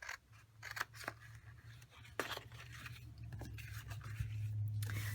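Scissors snipping a paper tab for a star-shaped gift box, a few crisp close cuts spaced irregularly, then a soft steady sliding rasp of blades through card near the end, quiet and without speech.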